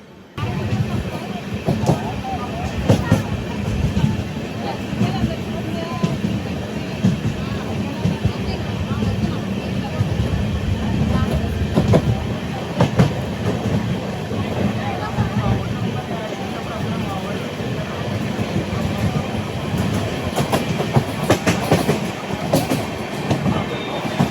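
Seshadri Express running from Kakinada toward Samalkot Junction in a general coach, wheels beating a steady clickety-clack on the rails with a constant low rumble, heard from inside the coach with voices in the background.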